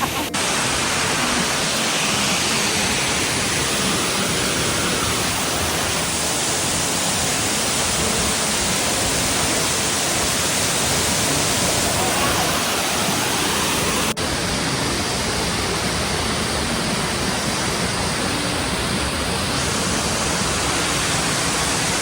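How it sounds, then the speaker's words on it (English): A waterfall roars in a dense, unbroken wash of rushing water, loud and close, with steady spray noise throughout. "Hi, waterfall."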